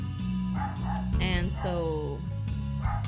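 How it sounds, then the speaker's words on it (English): A dog barks and yips in the background with a few short bow-wow sounds scattered across a few seconds, mostly under a person talking nearby. "in the background you can hear my dog barking"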